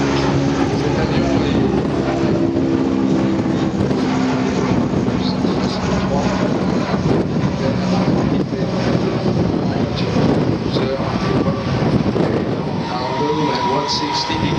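Transall C-160 military transport aircraft in flight, its propeller engines giving a loud, steady droning roar with constant wind rush throughout.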